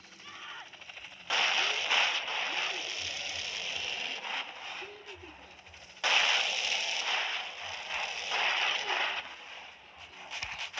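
Video game gunfire in GTA during a street brawl, two long bursts of rapid crackling shots that sound distant and busy, with game noise in between.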